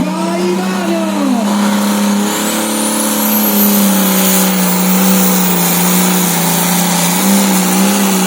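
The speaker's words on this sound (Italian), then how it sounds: "tutto pronto, luce verde, bandiera verde, vai che andiamo, su di giri, vai Mario!" A tractor-pulling machine with a Power Star engine revs up at the start of a pull, a loud sustained mechanical roar with pitch sweeping upward, while an announcer talks over it.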